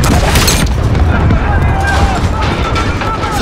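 A large explosion in the Call of Duty Modern Warfare (2019) campaign, set in Urzikstan, rolls out as a loud, sustained booming rumble with debris and crackling that fills the moment without a clear single onset.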